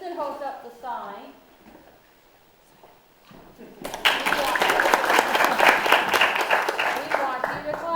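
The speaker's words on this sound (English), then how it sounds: "We will have an applause sign that will cue you when we want you to clap." Someone speaks and then falls quiet before a live studio audience bursts into loud, sustained applause that continues to the end.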